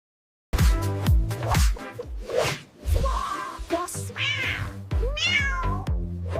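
Animated cartoon kitten meowing several times in a playful dance-party scene, bright high mews popping over bouncy music and squeaky cheerful vocal effects, close and loud throughout.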